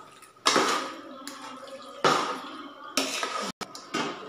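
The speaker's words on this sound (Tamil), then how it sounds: "சிக்கனை உள்ளே சேர்த்து நல்லா மிக்ஸ் பண்ணிக்கிடுவோம்" Marinated chicken mixed into masala in a pot for biryani, several wet scraping and clattering strokes of a ladle against the pot, close and separated by short pauses.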